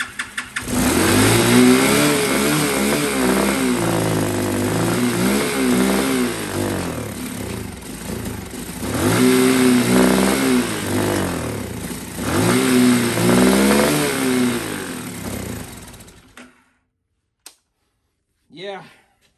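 CT70 clone minibike engine revving repeatedly just off choke, rising and falling in several bursts close up, with a voice briefly heard after the engine cuts out.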